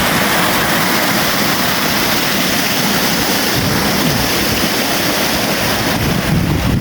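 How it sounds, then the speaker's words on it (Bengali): Water pours in a loud, constant rushing roar, like a small cascade flowing into a pond, steady and close. "এই পুকুরে এভাবে পানি গড়িয়ে আসছে।"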